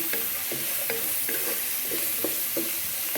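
Rock salt and onions being sautéed in a pan for an egg curry, a steady sizzle with a spatula scraping and stirring in regular strokes about every half second, close and continuous, no voices.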